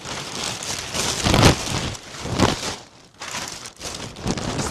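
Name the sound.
plastic garbage bag being handled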